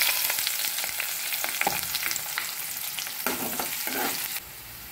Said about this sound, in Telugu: ఉల్లిపాయలు పచ్చివాసన పోయి కాస్త కలర్ టర్న్ అయ్యే వరకు మనం వేయించుకోవాలండి.